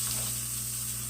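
Chicken pieces sizzle in a hot cast iron pan after being laid breast side down, giving a continuous, even frying hiss with a low background hum and no talking.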